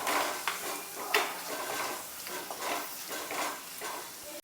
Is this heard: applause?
no